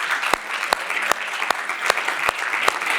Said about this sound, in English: I want you all to give a big round of applause to Aisha and Sparkle.